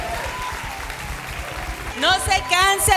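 A church congregation claps in rhythmic beats under lingering music, with a voice rising over the clapping in the last second.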